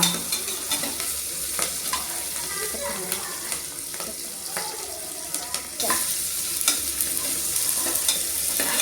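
Spices sizzle and crackle in hot oil with scattered pops and stirring scrapes, steady throughout, with faint background activity.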